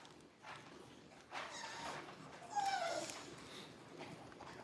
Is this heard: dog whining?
yes